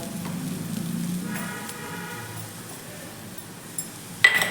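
Sesame seeds, sliced ginger and garlic roast in a pan for a soybean curry, giving a soft, steady sizzle with faint stirring, ending in a brief metallic clink.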